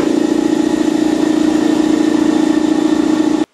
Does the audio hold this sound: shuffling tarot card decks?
no